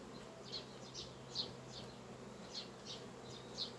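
Honey bees busy around the frames of a hive where queens are being raised, a steady low hum with short, higher buzzing bursts coming and going at close range.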